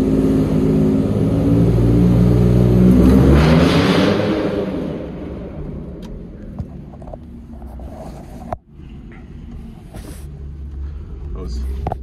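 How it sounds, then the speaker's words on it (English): A Ford F150 truck engine revving while held on the brake, a loud low roar building and sustained for several seconds before dropping back to a rough idle with a few clicks, someone talking over it. "I'm going to be standing on the brake, and I'm going to raise the RPMs with my right foot"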